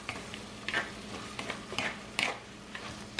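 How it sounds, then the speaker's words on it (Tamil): Chicken heart pepper curry being stirred in a pan: scattered spoon scrapes and clicks over a low simmering sizzle, close and fairly quiet, with no talking. "ஒருக்கா மிக்ஸ் பண்ணி விடுங்க."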